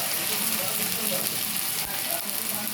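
Ground spices with turmeric, chilli powder and cumin powder sizzle in a hot pan with a dense, even frying hiss and faint stirring, close and continuous.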